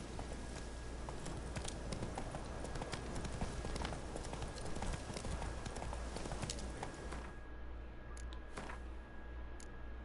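Roach, the horse in The Witcher 3: Wild Hunt, gallops with a dense, continuous run of clip-clopping hoofbeats, steady and unbroken throughout, heard alone without talk.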